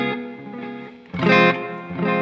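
A TC Electronic Alter Ego Vintage Echo V2 delay pedal on a guitar, with played notes repeating and trailing off in echoes, swelling louder midway and carrying a slightly distorted, chorus-like texture.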